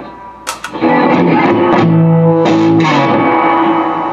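Loud distorted electric guitar chords ring out through a Mesa Boogie Mark V 35 amp on its solo channel after a few quick muted strums, sustained and heavily driven with reverb.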